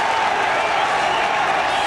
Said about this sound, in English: at last the Welsh crowd have got something to shout about